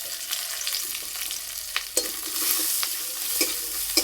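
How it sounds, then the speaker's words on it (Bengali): Onions and black nigella seeds frying in oil for a bhorta, a close crackling sizzle with repeated sharp scrapes and taps of a spatula stirring, and no speech. "পেঁয়াজ বেশি ভাজবো না, একটু নেড়ে তুলে নেব।"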